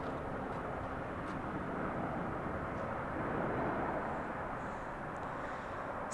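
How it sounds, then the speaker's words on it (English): Air Canada jet from Toronto landing at LAX, a broad distant engine roar holding steady and swelling slightly midway, heard without talk. "next plane coming in on the south side was Air Canada coming in from Toronto, which just landed"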